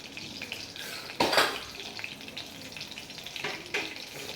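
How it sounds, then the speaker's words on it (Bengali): Cumin seeds dropped into hot oil in a kadai, a sharp crackling sizzle that bursts out suddenly, fades into a steady frying hiss and flares up again briefly later, close and moderately loud with no talking. "এই কড়াতেই আরেকটু আমি সামান্য তেল দিয়ে দেব, একটু কাঁচা জিরে দেব"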